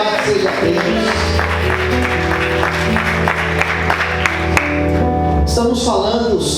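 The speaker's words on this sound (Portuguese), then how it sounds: "Aplauda Jesus bem forte" A church congregation applauds loudly during a worship service, a dense steady wash of clapping with music playing underneath throughout.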